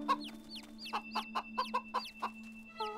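An animated hen clucks in a rapid series of short, sharp calls with rising squawks, about a dozen in three seconds, close and alone with no speech.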